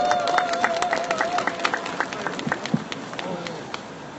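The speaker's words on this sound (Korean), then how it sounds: "힘찬 박수로 맞이해 주시기 바랍니다." Audience applause at an outdoor Wednesday protest rally, a crowd clapping steadily for several seconds at moderate volume before it thins out near the end.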